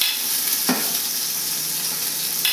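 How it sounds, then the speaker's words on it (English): Pork ribs browning in a pan hiss with a loud, steady, close sizzle, broken by a brief clank of a utensil or the pan early on and a light bump near the end. "our pound of ribs is just finishing up being browned"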